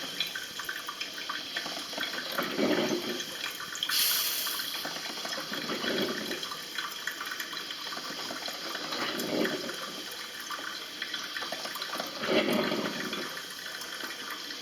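Water running through an electric drip coffee maker after descaling, a soft continuous trickle with gurgling surges every few seconds, fairly quiet and close, no voices.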